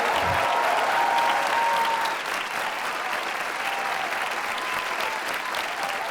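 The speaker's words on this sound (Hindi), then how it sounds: "भरपूर तालियों के साथ अजहर इकबाल साहब को मदहू कर रहे हैं नाज़िम मुशायरा।" Audience at the Jashn-e-Rekhta grand mushaira, an Urdu poetry gathering, clapping in a full, sustained round of applause that stays loud and even, softening slightly partway through, with a tonal hum lingering beneath.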